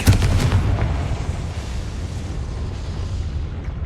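A Confringo fire spell explodes in the video game Hogwarts Legacy, a loud deep booming blast at the start that rolls into a long rumbling, fading tail.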